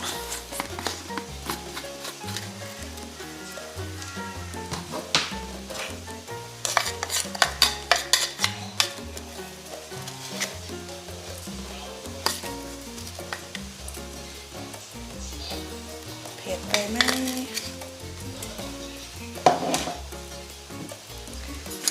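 Thai curry paste of shallot, chili and lemongrass sizzles and fries steadily in a pan for Isan-style mok pla, with occasional stirring scrapes and utensil clinks against the pan.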